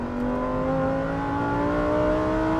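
Lamborghini Huracan STO with its naturally aspirated engine held at a high, steady rev, a loud sustained scream with strong harmonic whine and no talk.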